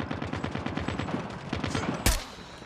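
Rapid automatic gunfire from Call of Duty Warzone Mobile crackles in a fast, even rhythm, ending with one sharp, louder shot up close.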